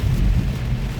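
Heavy rain drumming on a truck during a storm while driving near Frontenac, Kansas, a dense, loud, low-heavy roar with constant rumble and no voices.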